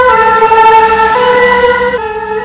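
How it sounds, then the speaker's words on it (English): A loud, close ambulance siren blares a steady, piercing wail that drops in tone near the end, on a Paris street. "Ambulance. Very loud in Paris."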